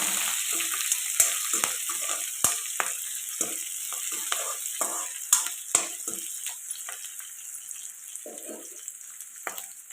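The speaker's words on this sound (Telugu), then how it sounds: "ఇది బాగా ఫ్రై చేసుకోవాలండి" Onions fry hard in a pan of hot oil for drumstick dal, a steady close sizzle broken by frequent stirring scrapes and clinks that continue without any talk.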